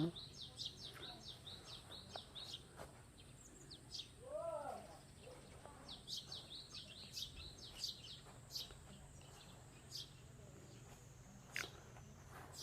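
Small birds twitter in faint, quick clusters of chirps in a flower-filled home garden. A lower cooing call rises briefly over a soft, steady background hum.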